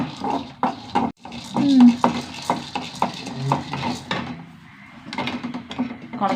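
Clattering and scraping of a utensil roasting chana dal and curry leaves in a pan for idli-dosa powder, with irregular knocks and a faint sizzle underneath, plus some brief talking.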